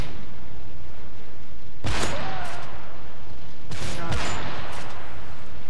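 Two loud sniper rifle shots in the video game Modern Warfare 3, each a sharp booming crack with a short tail, spaced about two seconds apart over a constant, heavily clipped game-audio bed.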